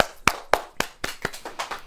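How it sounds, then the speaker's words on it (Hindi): A church congregation claps hands in about eight sharp, evenly spaced claps, fairly close, with no talk over them. "ताली बजाए"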